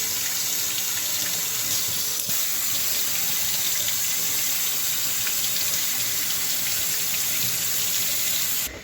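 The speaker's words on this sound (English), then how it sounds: "So what I'm going to do first is go ahead and get my fruit washed up." Fruit, apples and pears, is washed under a running kitchen tap, the water pouring steadily and loudly into the sink without pause.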